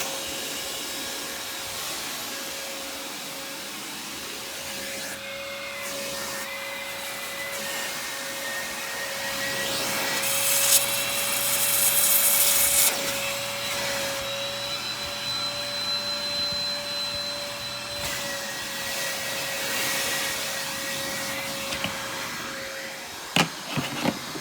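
An Aerus Lux (Electrolux) Guardian upright vacuum cleaner runs with a steady loud motor whine and airflow roar, a sustained tone that swells and dips slightly, ending in a few clicks.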